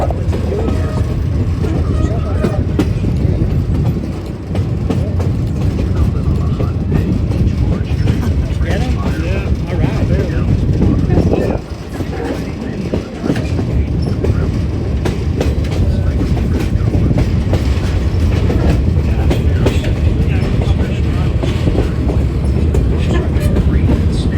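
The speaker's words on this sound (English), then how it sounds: "As the train makes its way east" A Verde Canyon Railroad train rolls steadily east along the rails with a continuous rumble and rattling wheels, heard from inside or close by, with talk at times.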